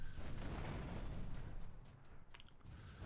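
A car blows up in GTA III, a deep heavy boom that rumbles and fades over a few seconds, followed by a couple of faint sharp crackles.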